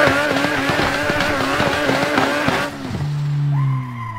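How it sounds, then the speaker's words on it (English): A car's wheels spin in the Assetto Corsa racing game, its engine droning with rough, stuttering harmonics before dropping to a lower steady tone and a rising whine near the end, loud and without talk. "Just wheel spinning."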